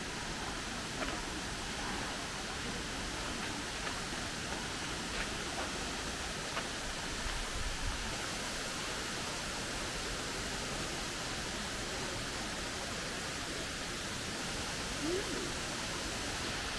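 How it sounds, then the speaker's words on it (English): Veliki Slap, the biggest waterfall in Croatia, in a national park: a continuous broadband roar of falling water, steady and unbroken, with no voices. "We are getting closer to the Veliki Slap, the big waterfall, which is the biggest waterfall in Croatia."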